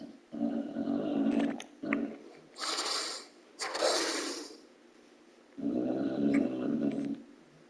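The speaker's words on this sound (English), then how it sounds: "If you're wondering who's snoring, that's my dog." A dog snores in loud, rhythmic bursts, with deep rumbling inhales and breathy exhales repeating close by, separated by brief quiet pauses.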